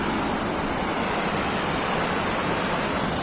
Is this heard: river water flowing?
yes